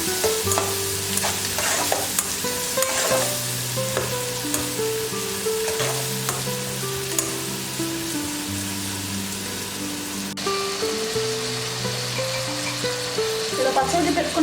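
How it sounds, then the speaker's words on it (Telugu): Onions with turmeric stirred and frying in a pan for a South Indian thali, a steady close sizzle with scraping stir strokes throughout, over quiet background music. "పసుపు వేసి ఇలా కలుపుకోండి"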